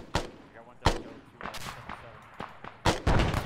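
Grenade blast in the ArmA 3 Unsung Vietnam mod, a sharp heavy bang among several loud, close explosive cracks and gunfire bursts that cut through the game's background rumble.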